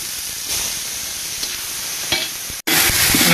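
Tomatoes hit browned garlic and onion, and a loud, close, steady sizzle follows with faint stirring scrapes. It cuts out for an instant, then returns slightly louder.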